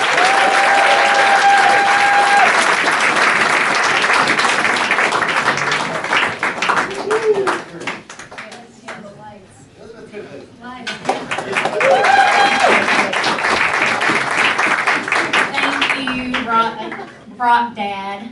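A concert crowd at the Rialto Club in Athens, Georgia gives a loud, sustained round of applause for a performer, with cheers and bursts of whistling rising and falling over the clapping.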